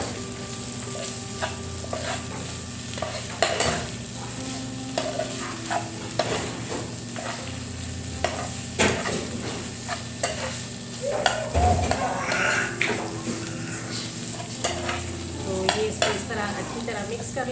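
Chicken mince with turmeric frying with onions in a pan, a steady close sizzle with repeated scraping and tapping strokes of a spoon as it is stirred, without speech.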